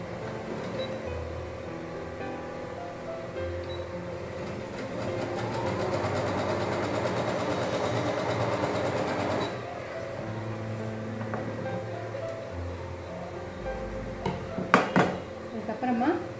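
A sewing machine stitches cloth for a hairband in one sustained whirring run of several seconds, framed by quieter handling, light clatter and a voice talking.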